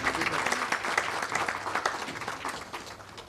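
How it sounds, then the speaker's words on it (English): Dense, steady applause from an audience at a stakeholders' meeting held for a foundation day celebration, many hands clapping continuously and fairly close for the whole stretch. "Let's have a big round of applause."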